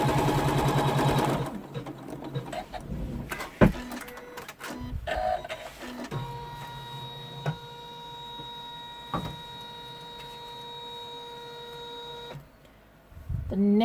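An embroidery machine stitches a colorway on satin fabric hooped for an in-the-hoop scallop pouch, giving a steady mechanical whirr with sustained tonal hum and occasional clicks and thumps near the close.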